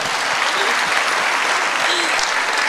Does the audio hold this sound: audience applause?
yes